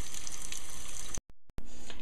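Mutton is washed under a running kitchen tap, a steady close gush of water that cuts out briefly before flowing again.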